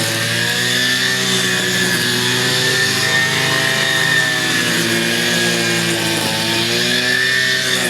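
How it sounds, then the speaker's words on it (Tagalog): A newly bought grass cutter runs steadily while clearing weeds, its loud, continuous engine drone holding even with no pauses and no one speaking. "So yan po ang unang sabak ng bagong grass cutter na binili natin"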